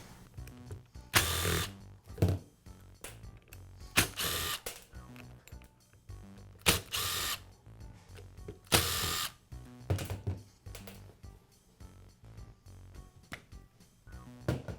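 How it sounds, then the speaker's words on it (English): Taking the spindle assembly out of a Makita grinder gives quiet, intermittent metallic clicks and short ratcheting bursts at irregular intervals, with brief pauses of handling between them. "I'll begin by removing the grinder's spindle assembly."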